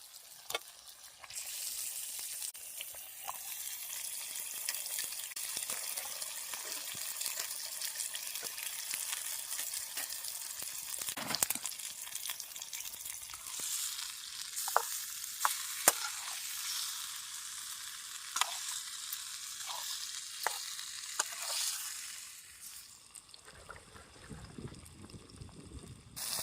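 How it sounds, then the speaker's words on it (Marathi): Freshly caught river fish hit hot spiced masala in a pan and sizzle in a loud, continuous hiss lasting over twenty seconds, punctuated by pops and stirring scrapes, then fading at the end; no talking. "आता मासे टाकून घेते"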